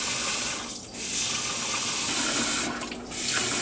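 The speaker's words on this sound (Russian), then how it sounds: "Отмерили нужное количество и промываем под проточной водой" Cold tap water runs steadily into a bowl of rice being rinsed for Uzbek plov, a continuous close splashing wash with two brief dips where the flow shifts.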